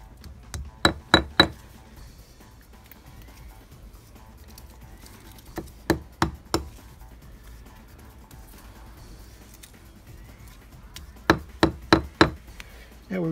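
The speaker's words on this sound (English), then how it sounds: "Tap them in fully with the hammer." Three groups of sharp metallic hammer taps driving wall plugs into drilled holes, three or four quick strikes each, separated by quiet pauses, close and crisp.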